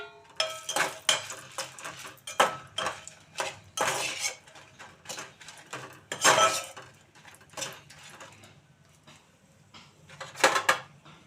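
Dried red chillies frying in a little leftover oil in a pan, stirred with a metal spoon that clinks and scrapes against the pan in irregular, close bursts for coriander chutney.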